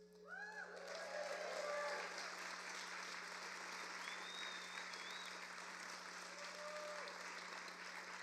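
A crowd at a socialist political rally claps at length, with a sustained wash of applause rising quickly and holding steady, scattered whoops and cheers on top, and a low electrical hum underneath.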